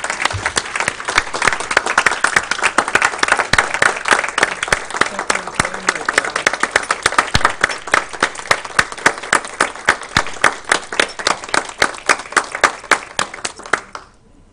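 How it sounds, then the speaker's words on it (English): An audience at an agency meeting gives sustained applause, many hands clapping steadily at close range, tapering off and ending just before the close. "I would ask all of you to please join me in a round of applause for John"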